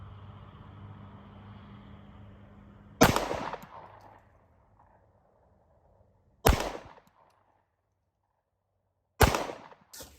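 A CZ Shadow 2 Compact pistol fires three loud, sharp shots, widely spaced at an outdoor range. Each crack is followed by a short echoing decay, with quiet gaps between shots.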